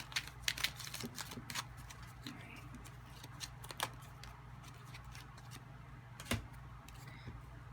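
A deck of tarot cards being shuffled by hand during a card reading: a run of light papery clicks and rustles, denser early on and then sparse, with one sharper snap near the end and no talk.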